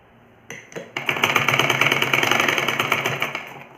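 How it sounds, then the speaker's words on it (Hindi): A sewing machine runs a line of stitches along the folded edge of a kurta neck strip, starting with a couple of short bursts and then settling into a fast, steady mechanical chatter up close. "और अब हम किनारे किनारे इस तरीके से सिलाई लगाते जाएंगे।"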